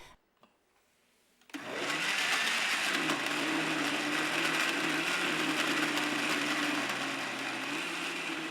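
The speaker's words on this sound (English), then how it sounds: "Now blend everything together until you have a well-mixed liquid paste." A blender whirs loudly and steadily as it purées curry paste ingredients with a quarter cup of water, starting abruptly after a moment of near silence and running on without pause.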